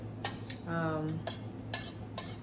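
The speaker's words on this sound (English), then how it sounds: "I just pulled the barbecue sauce off of the stove, and I'm really gonna stir it a little bit" A spoon scrapes and clinks against a pot while stirring thick barbecue sauce just taken off the stove, with a few sharp metallic taps and a brief squelchy swirl, close and clear.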